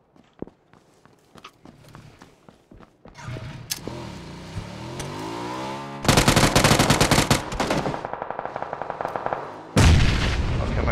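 Burst-fire gunshots from PUBG gameplay: sparse faint shots at first, then loud dense bursts of rapid automatic fire with heavy booms, repeated volleys close and loud toward the end.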